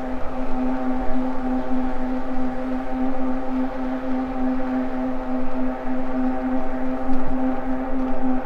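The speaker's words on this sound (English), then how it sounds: "That's some grain silos here. That's what that noise is" Grain silos among countryside fields give off a steady, humming mechanical drone with a constant tonal pitch under faint background noise, heard from a moderate distance.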